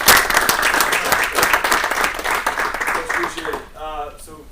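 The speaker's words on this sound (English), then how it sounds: "round of applause" Audience applause welcoming a strength and conditioning speaker, lively clapping from a room of people that fades out near the end as a voice begins talking.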